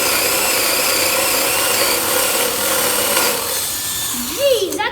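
A 3/4-inch speed bore bit driven by a power drill grinds steadily through wood, loud and close, with a rising whistle-like squeal near the end.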